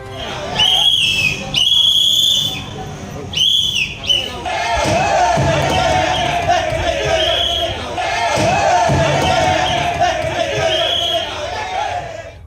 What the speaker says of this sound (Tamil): திருநெல்வேலி மாநகராட்சி மாமன்ற கூட்டத்திற்கு விசில் அடித்தபடி வந்த தவிக கவுன்சிலர்